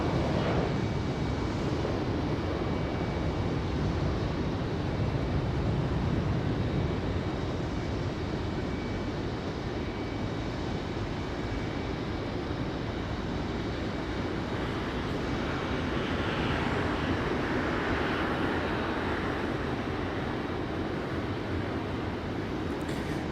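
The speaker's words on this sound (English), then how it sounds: "our FedEx ATR coming in from Wilmington, North Carolina" A FedEx ATR turboprop arrives at Raleigh Durham airport from Wilmington, North Carolina, a sustained broad engine roar and rumble that stays steady for over twenty seconds, heard from a distance with some wind noise and no talk.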